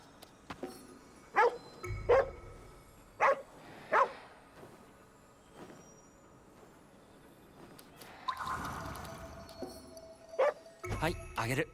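A dog in the video game GhostWire: Tokyo barks in several short, separated bursts, then yips and whimpers, with game sounds and a brief tonal swell in between.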